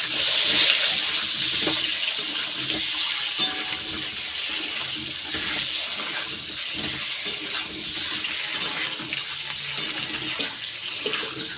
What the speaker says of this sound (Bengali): এইবার ভালো করে ভেজে নেব।